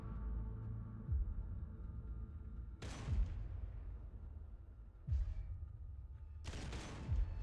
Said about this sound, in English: Firing on that target.